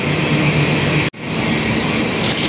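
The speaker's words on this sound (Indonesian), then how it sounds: "kereta api Sembrani yang menyusul kereta kita, kereta api Dharma Wangsa di stasiun Semarang Poncol" The Sembrani passenger train rushes past the Dharmawangsa train at Semarang Poncol station, a loud, steady roar of wheels and air with a brief abrupt dropout in the middle.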